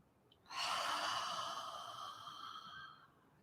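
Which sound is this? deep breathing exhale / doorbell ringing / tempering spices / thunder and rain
deep breathing exhale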